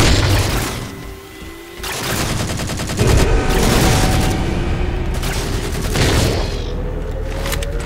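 SAW machine gun fire in Halo 4, sustained automatic bursts mixed with booms and shattering impacts, loud and close, with a rising engine-like whine sweeping underneath.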